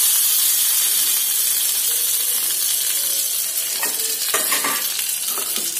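Neem flowers tipped into a hot mustard seed tempering set off a bright, hissing sizzle, joined toward the end by a quick burst of crackling pops and scrapes.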